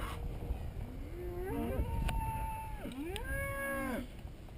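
Cattle give two long, drawn-out moos close by, one after another, over a quiet outdoor background on a farm troubled by flies.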